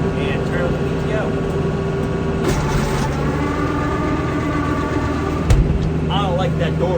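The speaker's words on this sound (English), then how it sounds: "Raise the mower up a bit and turn the PTO." A tractor turning its PTO to drive an offset flail mower produces a continuous close engine drone with steady mechanical hum, and a brief knock near the end.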